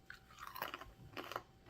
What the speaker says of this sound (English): I like my bacon really crispy, so I'm going to try a piece of the really crispy one.